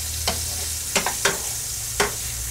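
Shrimp cooking in a pan for spaghetti with artichoke pesto, a steady sizzle broken by a few sharp utensil clicks and scrapes.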